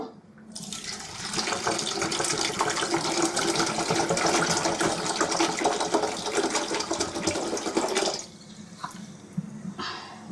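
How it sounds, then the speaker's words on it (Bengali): Water streams steadily into a cooking pot for amra ambal, a hog plum sour dish, in a continuous splashing pour of about eight seconds before it cuts off, leaving quiet kitchen sounds. "এখন পানি দেব"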